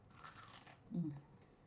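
A single crunchy bite into fried KFC chicken, a brief crisp crackle near the microphone, heard alone in a quiet room.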